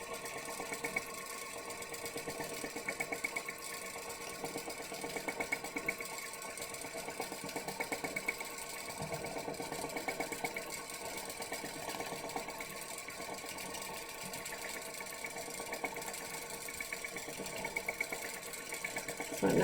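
A Juki DDL-9000 sewing machine running continuously while free-motion quilting swirls, a steady, even mechanical hum and rapid needle chatter held close at constant level throughout, with no one speaking.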